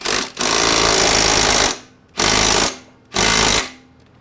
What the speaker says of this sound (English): We're going to hit it with the impact drill.